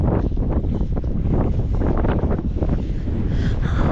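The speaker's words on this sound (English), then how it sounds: "Holy wind!" Strong outdoor wind buffets the microphone in a loud, continuous low rumble with gusty fluctuations throughout.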